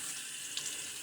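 Tap water runs in a steady, soft hiss while blades from a Shake Sharp razor are rinsed. The sound is brief and fairly quiet, with no voices.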